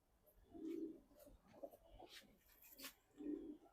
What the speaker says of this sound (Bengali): নারায়ণগঞ্জের একটা কবুতর এ কবুতর হাট থেকে সংগ্রহ করা